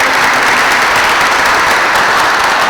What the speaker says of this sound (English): So he deserves a round of applause.